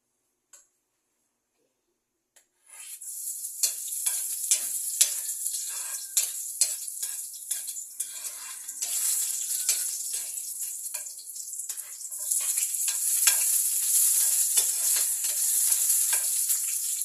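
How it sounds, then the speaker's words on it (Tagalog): Shrimp sautéing in hot oil in a wok, a bright continuous sizzle that starts after a brief silence, punctuated by frequent scraping and clinking utensil strokes, close and fairly loud throughout. "Karon magsugod na sa tagisa"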